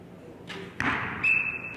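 An arrow strikes the target with a sharp thud at an indoor national archery championship final, followed by a faint ringing tone, with no voices heard.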